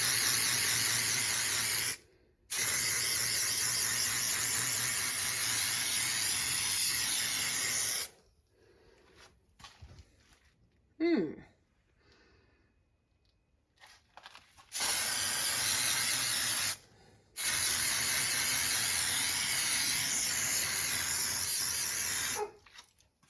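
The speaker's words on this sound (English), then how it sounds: "I don't know where that spray paint came from, but it had just enough in the can" An aerosol spray paint can hisses in long continuous bursts, close and loud, separated by short pauses and a quieter stretch of faint handling noises in the middle.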